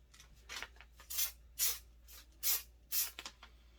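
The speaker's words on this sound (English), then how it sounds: "So I'm going to spray a piece real quick." Instant fabric color sprays in short hissing bursts onto fly-tying material, about half a dozen quick, fairly close spurts with brief pauses between them in an otherwise quiet room.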